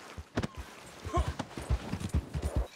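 Hooves clip-clop in a video game as a horse trots up, a quick irregular series of close thuds, with a soft snort partway through.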